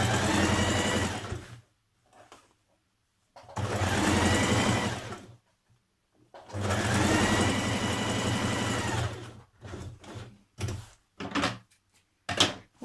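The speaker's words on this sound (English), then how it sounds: "stitch around this pocket edge" Sewing machine running around a pocket edge, joining the front yoke and pocket to a trouser front in a summer jumpsuit: three sustained bursts of rapid stitching separated by pauses, then several short stop-start runs.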